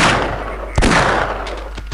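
Gunfire in Half-Life comes as two sharp, loud shots, one near the middle and one near the end, each cutting through steady background noise.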